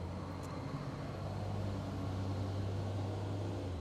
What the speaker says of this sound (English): there's a garbage truck nearby